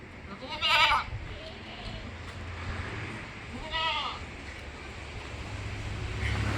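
A Beetal cross male goat kid, about six months old, bleats twice, short wavering cries a few seconds apart, over steady outdoor background noise with faint talk.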